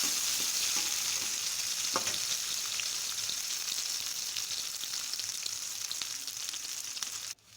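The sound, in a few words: onions frying and being stirred for Chettinad fish curry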